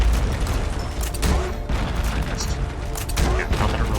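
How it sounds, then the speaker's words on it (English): A big area-of-effect weapon explosion in a video game gives a dense, sustained barrage of booming blasts and crackling gunfire-like bursts, loud and continuous throughout. "Because it's an AoE. It's a big ol' explosion."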